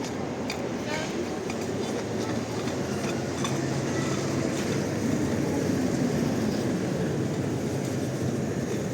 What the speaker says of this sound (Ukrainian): Трамвайчик двійка.